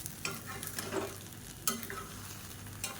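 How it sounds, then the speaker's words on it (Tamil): Cooked rice is stirred in a pan just after the gas flame is turned off: soft, faint scraping and light sizzling with a few sharper spoon clicks and no voices. "அமர்த்தி விட்டு மறுபடியும் ஒரு மிக்ஸி கொடுத்துக்கலாம்"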